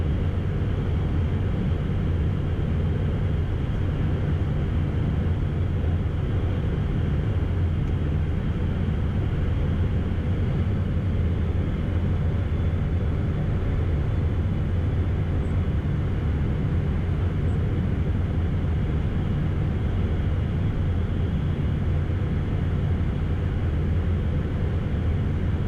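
Jet aircraft in flight on a long final approach flown by a student pilot, a loud, constant engine and airflow roar filling the cockpit, steady throughout with no voices.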